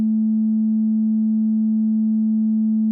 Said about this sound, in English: There's the sine wave at 219 hertz